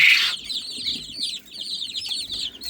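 Australorp chicks eagerly feeding on mealworms, giving a quick run of high, bright peeping chirps close to the microphone, with soft scuffling underneath.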